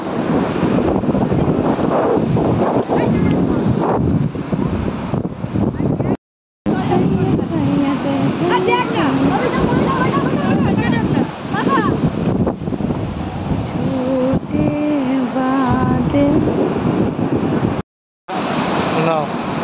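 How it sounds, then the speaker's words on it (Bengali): Rough sea surf and strong wind on the beach at Digha, a loud steady roar with heavy wind buffeting the microphone, with people talking over it and two brief dropouts. "সমুদ্রের উত্তাল পাত্তাল অবস্থা।"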